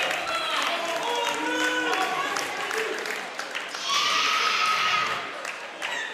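A woman cheers excitedly at an international axe throwing championship, loud high-pitched whoops and squeals rising over a lively indoor crowd, with a brighter burst near the end.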